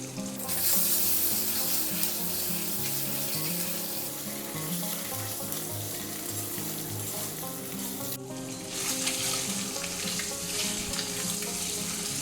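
Salt and ground chili paste fry in hot oil in a pan for an egg curry, producing a continuous, fairly soft sizzle with occasional stirring and a brief shift in texture partway through. No one speaks.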